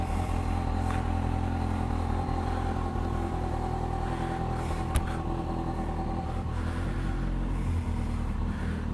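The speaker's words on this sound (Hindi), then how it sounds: "एक ही क्रैंक में शुरू कर दी हमने हमारी जी" A motorcycle engine idling steadily after starting on a single kick, a close, even low rumble with light mechanical clatter and no speech.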